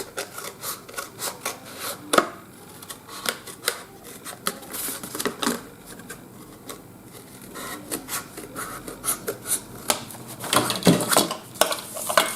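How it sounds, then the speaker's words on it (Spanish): Sewing scissors snipping a loose thread off a handmade double photo frame, with close scraping and clicking handling noises spread through the clip. "Se lo voy a quitar sino con las tijeras"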